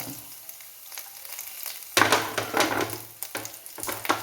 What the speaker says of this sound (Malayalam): സബോള മൂത്ത് വന്നിട്ടുണ്ട് നമുക്ക് ഓരോന്നോരോന്നായിട്ട് ഇട്ട് കൊടുക്കാം കറിവേപ്പില ഇഞ്ചി പച്ചമുളക്